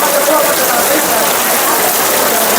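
Heavy rain pours steadily as a dense, loud hiss with no pauses, close and enveloping, on the mountain trail from Gaurikund to Kedarnath.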